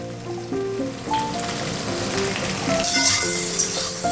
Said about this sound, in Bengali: এবার এর মধ্যে একটু লবণ দিয়ে সয়াবিনটা হালকা করে ভেজে নেব।